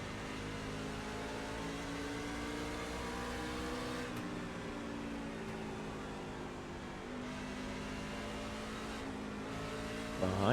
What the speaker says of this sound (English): Behind us, another lap car catching up